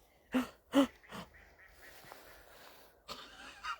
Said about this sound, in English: We've got some ducks in the background.